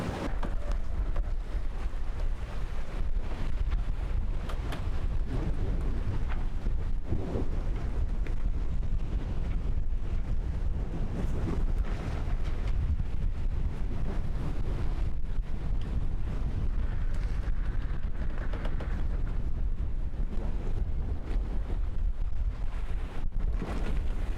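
A sailboat under way at about 3.5 knots, with steady heavy wind buffeting the microphone and low rushing water throughout.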